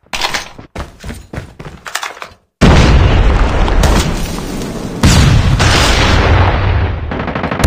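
A grenade going off in a multiplayer shooter game: a few sharp thuds first, then a short gap before a loud, sustained blast and rumble that swells again partway through and slowly fades.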